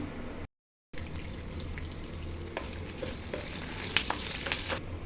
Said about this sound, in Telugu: ఈ ఆయిల్లోనేనండి ఆవాలు, పచ్చిపప్పు, మినపప్పు, కరివేపాకు, పచ్చిమిరపకాయలు, ఎండుమిరపకాయలు వేసుకుందాము.